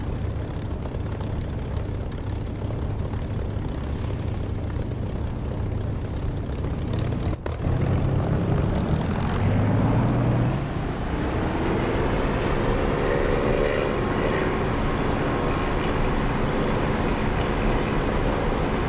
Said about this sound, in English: I'll try not to talk during takeoff this time